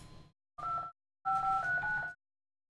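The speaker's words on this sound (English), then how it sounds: "I can even dial a particular phone number." Telephone keypad tones sound as a number is dialed from the NeXTSTEP SBook card-file application: a short beep, then a longer run of touch-tones, crisp and clear against silence.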